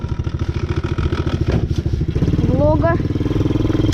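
A quad bike (ATV) engine chugs steadily while riding in a forest in May, rising in pitch as the rider throttles up, with someone speaking briefly over it.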